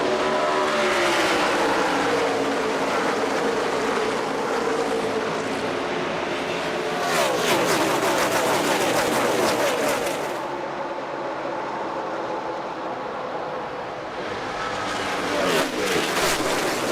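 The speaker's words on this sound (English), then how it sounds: "these drivers will be fighting for control of these cars into these very fast corners" NASCAR stock cars roar around a fast speedway at the AdvoCare 500, engines screaming loud and close with rising and falling pitch as cars pass, a dense continuous pack sound with sharper surges as individual cars sweep by.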